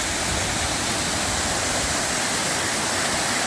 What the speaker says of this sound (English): So I've made it to the base of the falls.